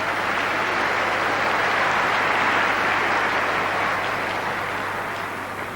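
A large rugby crowd applauds at Murrayfield during the 1991 World Cup match between Scotland and Japan, a sustained, dense wash of clapping heard from a distance that slowly tapers off toward the end.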